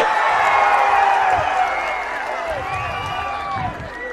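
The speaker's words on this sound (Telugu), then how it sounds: "గట్టిగా చప్పట్లు కూడా చెప్పండి" A large crowd at a TDP political rally in Parchur, sustained loud cheering with rising and falling voices and whoops, mixed with scattered clapping throughout.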